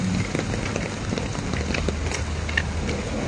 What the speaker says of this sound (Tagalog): Ayan, lumalakas na naman yung ulan.